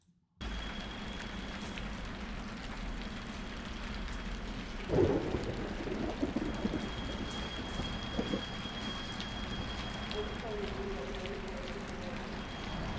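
Steady rain hisses continuously in a video game, with low rumbles underneath and faint background sounds that could be distant traffic.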